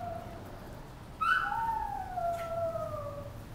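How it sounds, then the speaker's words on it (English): Dogs playing outdoors in a grassy, gravel yard let out a rising howl partway through, a couple of long wavering cries over a steady low background hum. "Our dogs are out playing now."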